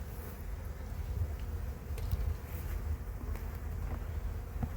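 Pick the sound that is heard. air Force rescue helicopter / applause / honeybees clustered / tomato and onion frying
honeybees clustered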